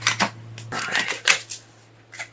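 Tarot cards riffle and slap together in quick, close bursts of shuffling, with short pauses between flurries and a faint steady hum underneath.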